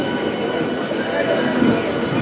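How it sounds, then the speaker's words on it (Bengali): A 12-coach Bongaon local train crossing past on the Ranaghat–Bongaon line, a steady close rolling rumble of coaches throughout, with a faint voice underneath. "one two five one twelve S বারো কোচের বনগা লোকাল এটা ক্রসিং করছে"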